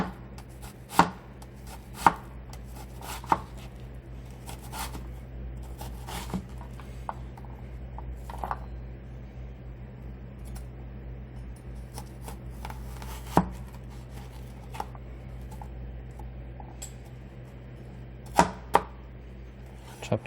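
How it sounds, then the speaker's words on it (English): A kitchen knife dices onion for beef chili on a cutting board, sharp isolated knocks spaced irregularly across a steady low room hum, some strokes louder and crisper than others, with no talking. "It's easier to dice the onion using this method."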